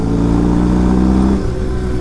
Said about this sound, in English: Oh, and that exhaust sounds good as well.